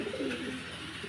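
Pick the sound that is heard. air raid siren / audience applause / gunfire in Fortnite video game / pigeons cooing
pigeons cooing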